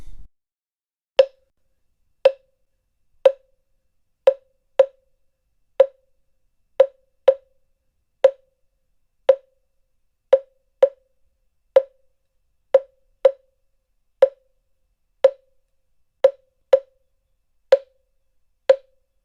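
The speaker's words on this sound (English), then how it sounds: "This is a single line clave in 6." A single-line clave rhythm in 6 taps out in sharp, dry clicks, spaced in an uneven repeating pattern and played alone against silence.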